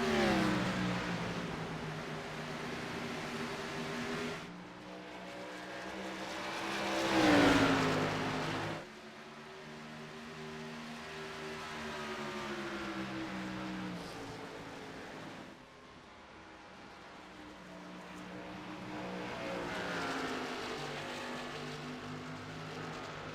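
Race cars drone around Rockingham Speedway in a racing video game, their engines rising and falling in pitch as they pass, with one louder surge partway through.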